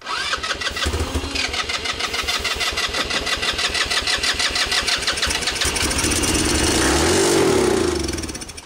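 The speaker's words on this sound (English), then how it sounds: "It won't run off the carb yet, but it will run." A derelict engine, still not running off its carburettor, cranks and catches, then runs with a steady rapid chugging idle for several seconds before the revs dip near the end, loud and close, with no speech.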